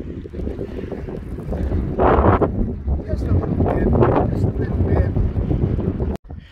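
Gusty wind buffets outdoors in the rain during coin digging, roaring steadily and loudly against the microphone with rising and falling surges, close and dominant throughout before cutting off abruptly near the end.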